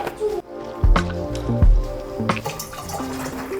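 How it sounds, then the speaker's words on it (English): White vinegar glugs and splashes into a gallon bottle that is already about a third full, with a few wet, uneven bursts of pouring close by and no talk over it. "So now I'm going to add some white vinegar to it."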